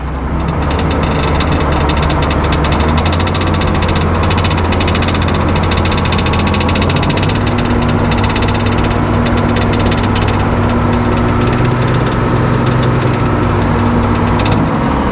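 A sawmill engine runs loud and close while a 16-foot pine log is sawn into boards, a steady droning roar that deepens in pitch partway through, with rapid vibrating texture on top.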